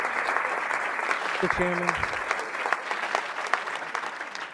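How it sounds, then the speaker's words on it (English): An audience at a school board meeting claps in a sustained round of applause, with a voice briefly heard addressing the chair through the clapping. "I respectfully ask the audience not to applaud during or prior or even after each speaker."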